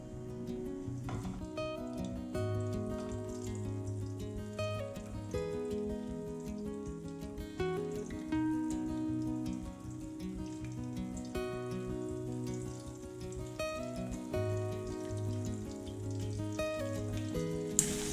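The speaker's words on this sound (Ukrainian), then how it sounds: "Коли олія добре розігрілася, починаю обсмажувати." Cheese flatbreads sizzle and crackle steadily in hot oil in a pan, a continuous spattering hiss that carries on throughout with soft background music and no talking.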